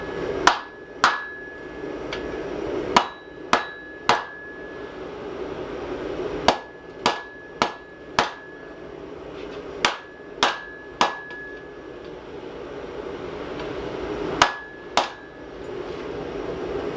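A steel froe being hammered straight on a large anvil: sharp ringing metallic strikes, often in quick pairs or triplets, separated by short pauses, close and loud with a faint room hum between blows.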